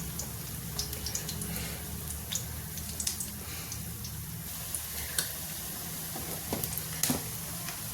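Besan-coated small potatoes fry in oil with a steady soft sizzle, dotted with faint pops and crackles throughout.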